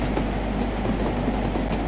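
A train rolls along rails in Train Sim World 3 on the Peak Forest route, giving a loud, steady low rumble with faint rhythmic wheel clicks running throughout, with no talk.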